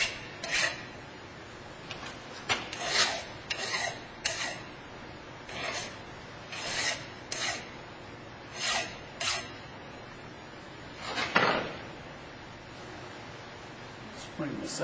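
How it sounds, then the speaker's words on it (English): A metal file strokes square stock flat in steady repeated rasping passes, close and fairly loud, with brief pauses between strokes. "Now I'm filing flat"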